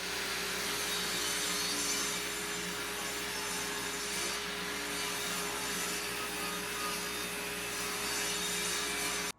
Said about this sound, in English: now we're gonna take that final step of making it S4S by running it through the table saw